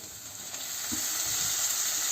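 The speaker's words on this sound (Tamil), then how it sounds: "இப்போ தக்காளி சேர்த்து ஒருக்கா கிளறி விடுவோம்." Tomatoes fry with onions in a pan, giving a steady, fairly faint hiss and sizzle with a couple of soft stirring scrapes close by.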